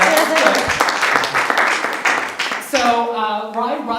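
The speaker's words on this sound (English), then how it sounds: "Yeah, you can clap for that." An audience at a community kick-off event claps loudly for a few seconds, and the applause tapers off as a speaker's voice carries on over it.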